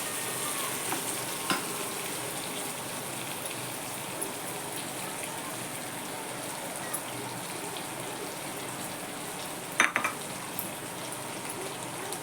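Steady, close sizzling of bitter gourd frying in hot oil with spices, with a few sharp clicks and taps of stirring throughout.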